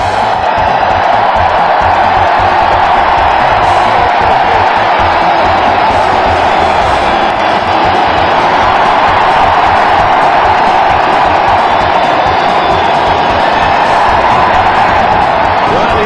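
Large cricket stadium crowd cheering and whooping steadily at full volume, a dense continuous roar with scattered shouts and some clapping throughout.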